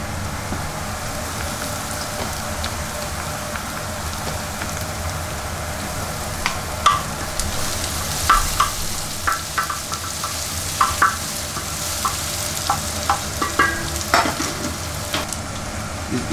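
Ginger sautés in hot oil with a continuous sizzling hiss. Sharp clinks and scrapes of a spatula are scattered across the second half, close by and fairly loud.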